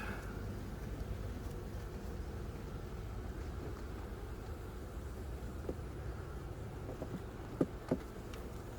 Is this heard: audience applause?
no